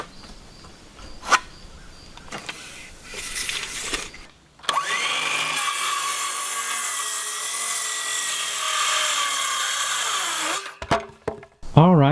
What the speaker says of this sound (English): So let's cut that down from one of these boards.